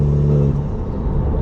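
A Golf GTI fitted with a Revo open air intake and a DSG gearbox gives a loud, close, steady engine drone with a rumbling intake note that shifts slightly midway.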